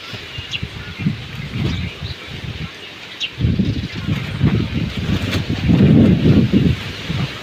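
Strong storm gusts buffet the microphone with roaring, rumbling bursts in a village, while faint bird chirps come through in the background.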